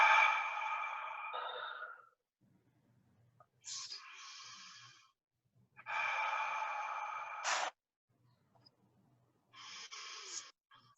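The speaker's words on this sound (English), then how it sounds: "So 3 breaths." Three slow, deep breaths during a Beltane ritual, each a long, close, airy inhale or exhale with pauses of near silence between them.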